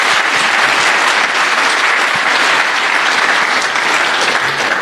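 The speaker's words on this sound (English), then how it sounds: "Another round of applause collectively for them." Loud, sustained applause for a panel at a capstone project invitational, a thick, close wash of many hands clapping at even strength for the whole stretch.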